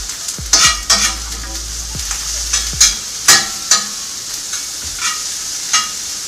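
Chipotle sausage frying and being turned with a metal spatula, close, loud scraping strokes repeating at an uneven pace over a constant sizzle.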